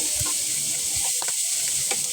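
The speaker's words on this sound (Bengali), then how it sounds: "পেঁয়াজগুলো ভেজে নিচ্ছি" Onions frying in a pan with chopped green chilies, a steady close hiss of sizzling oil running throughout with a few soft scraping stirs.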